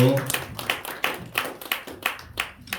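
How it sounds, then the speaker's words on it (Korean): A church congregation claps in rhythmic unison during a thank-you plaque ceremony, steady repeated hand claps with a brief voice at the start. "박수 한번 박수하시고요"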